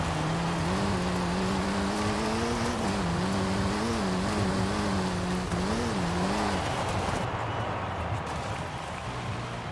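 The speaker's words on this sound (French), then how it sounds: "Les rapports sont très courts là, ça patine beaucoup" A 2017 Alpine A110 rally car spins its wheels on a road rally stage in Forza Horizon 5. A loud, continuous engine roar rises and falls as the short gears let the revs waver.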